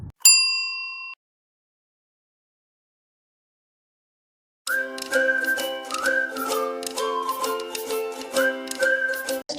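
A subscribe-style notification bell gives one bright, clean ding that rings briefly and then cuts to silence, followed a few seconds later by a cheerful whistled jingle over a busy musical backing.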